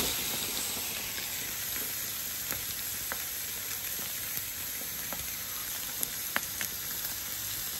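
Chicken sears on a hot grill pressed flat under a brick, giving a steady, dense sizzle and hiss with a few sharp pops and crackles throughout, close and continuous, with no talking.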